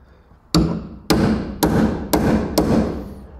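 A hammer strikes a chisel five times to cut away a rusty sill on a classic Holden Torana GTR XU-1 LJ, each blow a sharp metallic clang that rings out briefly, spaced roughly half a second apart, with no talking.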